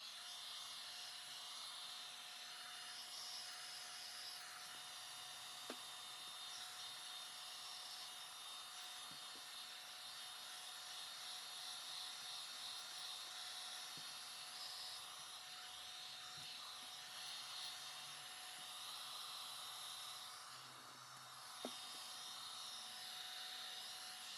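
Heat tool or dryer blowing on wet craft paint, a continuous steady whirring whoosh with a faint high whine that runs unbroken for the whole stretch, fairly quiet and muffled, with no talk.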